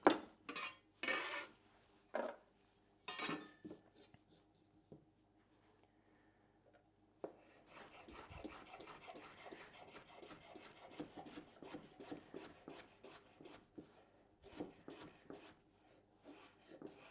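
A knife cuts small Persian cucumbers on the bias against a cutting board, giving several crisp separate chops followed by a faint, busy run of rubbing and scraping kitchen sounds, all quiet and close.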